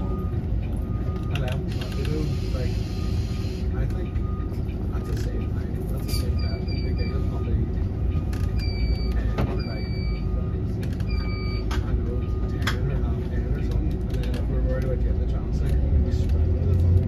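Airport Express bus from Belfast's Europa bus station to Dublin Airport rumbles steadily from inside the cabin, a constant low engine drone with small rattles and clicks over it.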